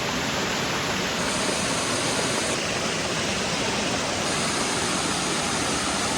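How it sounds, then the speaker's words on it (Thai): Waterfall plunging down a rocky drop in rural Thailand, a steady, dense roar of falling water that fills the whole clip without pause, loud and close, with no voices. "น้ำตกไหลลงมา"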